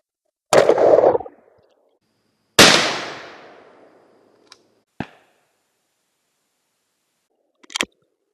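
A Stevens 512 over-under 20 gauge shotgun firing Remington Express XLR game loads outdoors: two loud sharp blasts with decaying echoes, followed by a few faint distant clicks and thumps.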